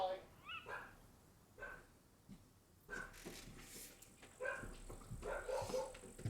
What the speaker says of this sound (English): She's just barking at the construction guys, right?